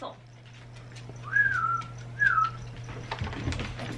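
A person gives two short rising-then-falling whistles to call a dog, clear and close over a low indoor hum, followed by quiet rustling.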